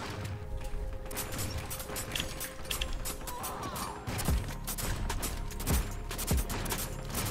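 Shotgun fire in the survival shooter LifeAfter, several heavy blasts a second or so apart over a busy clatter of other combat sounds.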